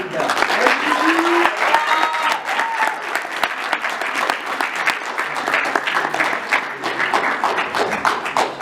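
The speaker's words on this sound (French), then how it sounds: "il mérite qu'on l'applaudisse" A crowd at a business school immersion day for high school students applauds Guillaume, dense clapping with a few sharper individual claps standing out and a brief vocal sound near the start.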